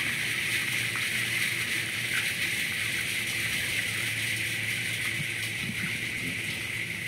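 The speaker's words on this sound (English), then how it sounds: "that right there is sewage going down the drain" Sewage drains from the black water tank of a Ford E-450 RV through a hose, giving a steady, low gurgling and sloshing flow heard close up, with outdoor hiss and no talking.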